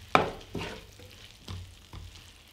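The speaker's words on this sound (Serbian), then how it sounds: "Promešat ću i pržit ćemo još jedno 3 minuta." Peppers and onion fry in a pan while being stirred, with a sharp scraping stir at the start followed by softer scrapes and a light sizzle underneath, close and fairly quiet.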